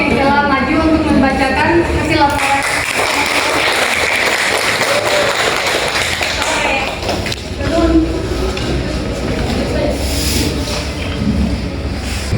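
Classroom of students applauding a group of classmates, a dense, steady wash of clapping with thumps and scattered voices that holds for several seconds and stays loud throughout.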